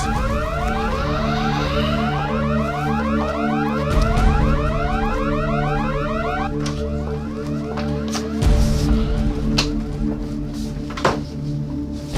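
Perimeter alarms sound in a security setting, with repeating rising electronic sweeps in a steady rhythm under heavy low droning tones, loud and continuous, punctuated by a couple of dull thumps.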